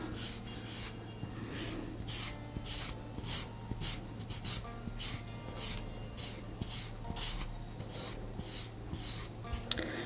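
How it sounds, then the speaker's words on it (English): Sponge nail buffer working over a natural fingernail after gel removal: a steady series of short, close, soft rasping strokes in an even back-and-forth rhythm, with a faint constant hum underneath. "I'm letting the grit of this sponge buffer, this high quality sponge buffer, do all of the work for me."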